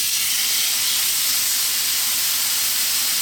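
A steak sizzles on a smoking-hot pan, a loud, steady, broadband hiss that holds at an even level throughout, with no voices.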